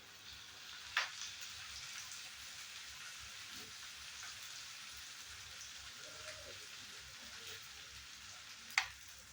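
Tomatoes and onions sizzle steadily in a pan for a tuna fish curry, a continuous crackling hiss with a couple of sharp clinks of a utensil.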